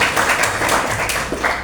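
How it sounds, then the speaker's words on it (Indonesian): Applause from a classroom audience, a dense, fairly loud patter of many hands clapping together, steady throughout without a clear start or end. "Tepuk tangan dulu."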